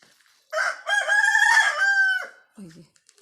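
A rooster at a neighbour's house gives one clear, drawn-out crow lasting nearly two seconds, followed by a short, low cluck.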